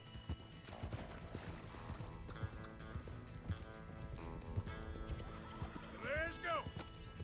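Horse hooves clip-clopping steadily in Red Dead Redemption II, quiet under someone talking, with a horse whinny near the end.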